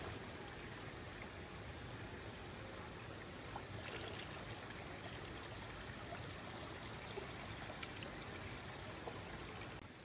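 Water poured and sloshed while rice is washed outdoors by a river makes a continuous, dense rushing and trickling sound that stays close and steady throughout, with no clear voices.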